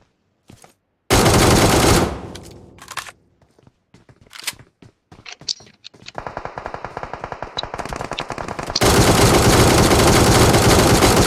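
Automatic gunfire from shooting a bot in a video game: a loud opening burst, scattered single shots, then a steady rapid stream of rounds building into a dense sustained volley, with no talk.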